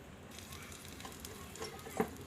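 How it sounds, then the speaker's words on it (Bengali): Soft, steady sizzling of an egg frying in a rice cooker, fairly faint, with a few small crackles and a slightly louder pop near the end. "ভাজা হচ্ছে এটা কালারও দেখা যাচ্ছে এটা"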